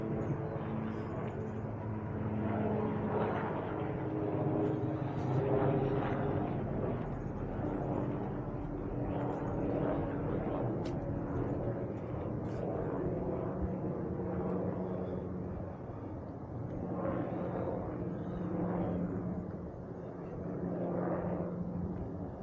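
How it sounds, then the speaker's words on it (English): A distant airplane drones overhead at Bellevue Botanical Garden, a broad rumbling roar that swells and fades slowly while faint background noise continues. "You'd think with all this technology we have, we could make planes fly quiet."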